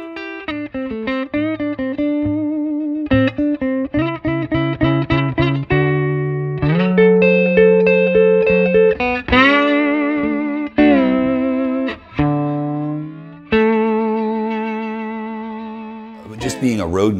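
An electric guitar plays through a Fender '57 Custom Twin amp, clean bright picked notes and ringing chords with slight chorus and echo, close and loud, phrases separated by brief pauses.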